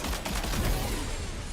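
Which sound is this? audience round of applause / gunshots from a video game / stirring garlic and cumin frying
gunshots from a video game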